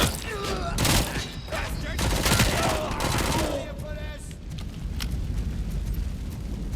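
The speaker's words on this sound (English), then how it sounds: "Someone is shooting." Gunfire in the video game Robocop: Rogue City, dense bursts of loud rapid shots with booming impacts over a busy background, then fading toward the end.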